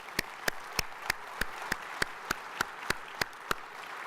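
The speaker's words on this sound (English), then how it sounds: "Please join me again in applauding our initiates." Steady rhythmic clapping at a medical society opening session, one sharp clap about every third of a second, with a faint murmur of a crowd underneath.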